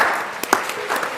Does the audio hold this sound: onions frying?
no